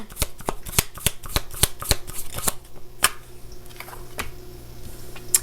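Close-up reshuffling of a tarot deck: a burst of rapid papery snaps and flicks that thins out into a few scattered card taps near the end, with no voices.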